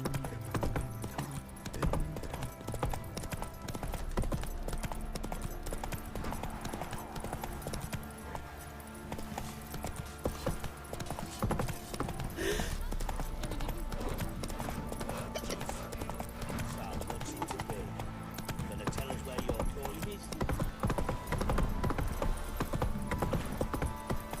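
Roach the horse gallops in The Witcher 3, a dense continuous clatter of hooves running under loud game music and ambience with no pause.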